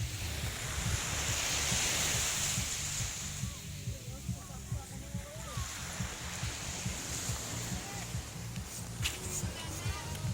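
Surf washing onto the beach at Tolosa, a steady broad wash of waves with wind buffeting the microphone, while people talk nearby throughout.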